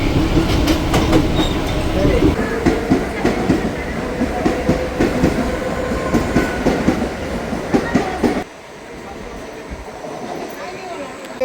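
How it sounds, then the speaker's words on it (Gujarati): A Mumbai local train rattles along near Dadar with loud, rhythmic clickety-clack of wheels over rail joints and a constant rumble, with voices in the carriage, then it drops to a quieter hum near the end. "અત્યારે ટ્રાફિક નહોતું એટલે અમે ટ્રેનમાં આવ્યા"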